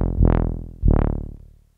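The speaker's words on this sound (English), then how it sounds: "I'm going to make this sound stereo by just using a delay." Two swelling synth notes from a Teenage Engineering OP-1 run through a stereo delay, each note rising and then fading in a bright buzzy tone before the sound decays to silence.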